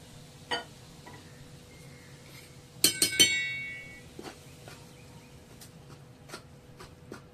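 A spoon mixes very hot oil into salted maida flour in a bowl, giving a quick cluster of faint metal-on-bowl clinks midway, with a few soft taps and scrapes around it in a quiet room.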